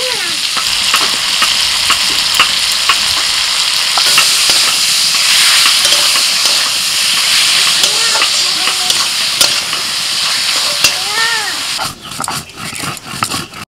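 Sugarcane jaggery being stirred into a frying mixture in a pan, a steady loud sizzle with scraping stir strokes throughout, a dog whimpering briefly in the background near the end.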